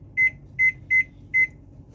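A kitchen oven timer gives four short, bright electronic beeps in an uneven rhythm, close and clear against quiet kitchen background.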